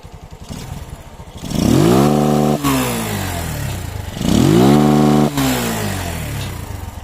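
A motorcycle engine fitted with a programmable CDI rev limiter revs up hard twice. Each time it climbs quickly, holds flat against the limiter, then drops back to a rough idle. The engine is loud and close, with no talk.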